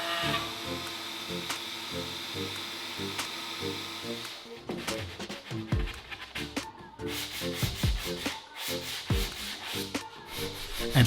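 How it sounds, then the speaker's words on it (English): Sanding the wooden edges of a homemade drill press table: a steady rhythmic rasping, rubbing back and forth, fairly close and continuous, growing busier with short strokes in the second half, no talking. "And finally, to make the edges smooth, I give it a sanding."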